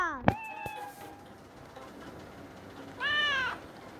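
Cat meows inside a Roblox video game, one short meow near the start and a longer wavering meow later, over quiet background.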